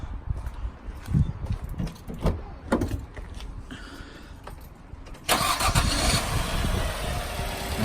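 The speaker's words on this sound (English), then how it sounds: "So let me just start the car up." A 2005 Nissan X-Trail 2.5 petrol car, suspected of head gasket trouble, cranks and starts, its engine catching into a loud steady idle after a stretch of quieter ambient noise.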